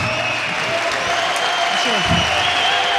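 An audience claps through a live show in a steady wash of applause, mid-level and continuous, with a faint voice and a low hum underneath.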